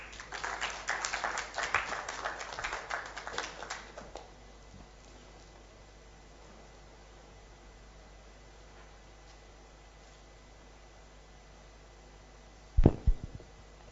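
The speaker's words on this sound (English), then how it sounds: "Another round of applause for him." An audience at a formal Afritex 2015 event applauding, a burst of scattered clapping for about four seconds that fades into quiet room tone, followed by a short thump near the end.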